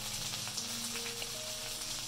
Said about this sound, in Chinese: 所以咧我哋用中火去煎佢